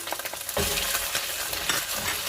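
Onion sizzling with seared meat in a hot pan, a continuous frying hiss with a couple of stirring strokes and scrapes, close and fairly quiet, with no voices.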